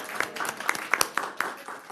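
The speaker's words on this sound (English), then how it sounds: "So please give Park Planning a round of applause." Scattered handclaps from a small group at a board of directors meeting, applauding the park planning department: about eight distinct, fairly close claps spread over two seconds, with a murmur underneath.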